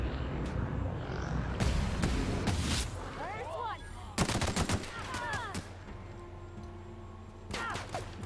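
Rapid gunfire from a sci-fi shooter game in The Outer Worlds, loud bursts of shots repeating across the clip with brief gaps, over background game sounds.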